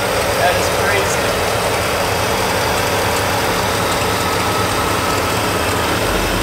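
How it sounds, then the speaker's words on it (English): A carburetor engine runs steadily while its mixture screws are adjusted by ear, giving a dense, even, loud mechanical drone throughout, with people talking over it. "He's tuning it right now with those mixture screws and just literally listening to it."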